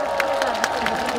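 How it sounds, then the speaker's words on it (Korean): Steady audience clapping and crowd noise in front of an outdoor stage at the Daecheongho cherry blossom festival, a continuous wash of applause with faint cheering, moderately distant. "그런 의미로 따뜻한 박수 다시 한번 더 보내주십시오."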